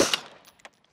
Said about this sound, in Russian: Хоть мы и произвели всего один выстрел